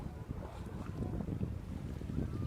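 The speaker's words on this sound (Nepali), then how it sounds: "हल्का हावा आइरहेछ होइन" Gusty wind buffets the microphone in low rumbling bursts, steady and close, with no voices.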